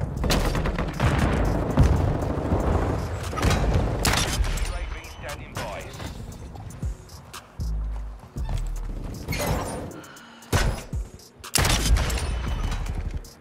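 Pistol gunfire sounds in an online shooter video game, with repeated sharp cracks and booms amid dense game noise and talking voices.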